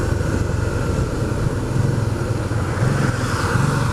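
A Porsche sports car speeds past on a mountain road in the Six Gap area, a loud, close engine roar that holds steady for several seconds with a rising and falling drone.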